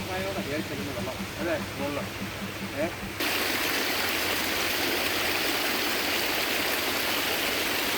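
Steady broadband rush of a flowing stream on hill farmland in Idukki, Kerala, with a person talking over it at first before the water noise takes over alone.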